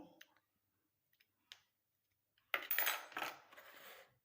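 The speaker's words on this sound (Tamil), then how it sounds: "ஒரு லெம் லெமன் எடுத்துக்கோங்க எலுமிச்சம்பழம் இதை எடுத்துட்டு கட் பண்ணிக்கோங்க" A knife cuts a lemon in half at home, a few faint isolated clicks of blade on a board followed by a louder close scraping slice.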